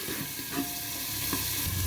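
Potato and spring onion fry in a pan while being stirred, a close, steady sizzle broken by soft scraping turns of the spatula, without any voices.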